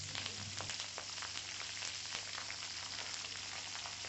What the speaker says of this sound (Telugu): మీడియం ఫ్లేమ్లోనే వేపుకుందామండి, మాడకుండా చూసుకోవాలి.